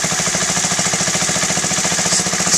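Honda Z50A motorcycle engine stumbling at idle after a carburettor clean and pilot adjustment, a close, rapid, uneven putter with regular pulsing beats throughout.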